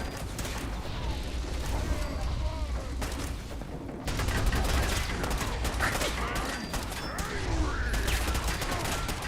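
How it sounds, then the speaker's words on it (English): Video game gunfire in a fierce firefight, with rapid bursts of shots, clanking mechanical rattles and crashing debris, loud and nearly constant with brief lulls, and a voice speaks over parts of it. "Please stop shooting me."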